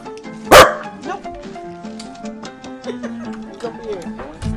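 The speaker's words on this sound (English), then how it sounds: "All you hear is Scooby barking in the mic" A dog barking into a gaming microphone: one loud, sharp bark near the start, then softer yips and whimpers mixed under tonal game music.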